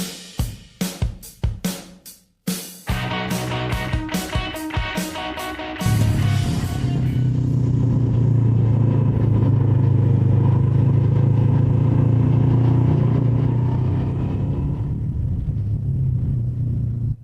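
A Honda NX500 motorcycle being ridden, opening with several sharp clattering bursts before settling into a loud, steady low engine rumble that holds for the rest of the stretch, with no talking.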